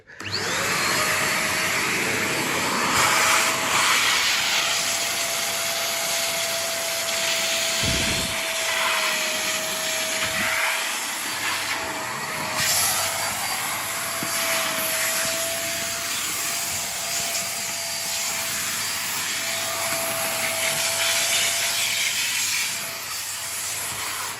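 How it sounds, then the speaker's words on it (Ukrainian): An RZTK VC 800 bagless vacuum cleaner fitted with a crevice nozzle runs continuously with a loud, steady roaring hiss and a constant motor whine, with brief thumps and changes in suction as it works. "я взяв цю щілинну насадку, щоб пропилососити такі місця"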